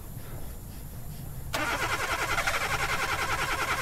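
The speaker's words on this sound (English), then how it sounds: "let's get this car running" A car engine in an alien horror video game is quiet at first, then catches abruptly and settles into a steady, loud, rattling idle that continues to the end.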